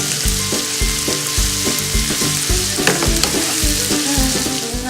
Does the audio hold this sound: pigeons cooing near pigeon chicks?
no